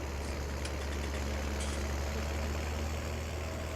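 A tractor engine idles in the Farming Simulator game, a steady low diesel rumble that stays even and continuous the whole time, with no talk over it.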